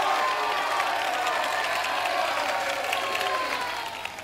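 Crowd applause mixed with cheering rolls on steadily for a few seconds as a broad wash of sound, tapering slightly at the close.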